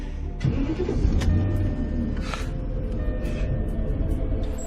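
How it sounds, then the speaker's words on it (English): A car engine turns over and then keeps running as a steady, fairly loud low rumble for several seconds, with no talking over it. "So please start the goddamn car."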